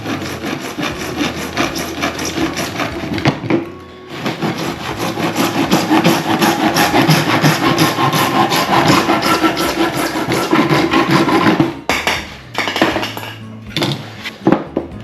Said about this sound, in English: this is a Japanese saw. Actually cuts on the pull instead of the push like a US saw